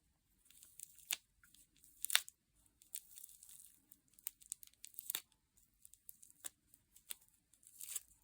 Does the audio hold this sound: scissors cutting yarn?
yes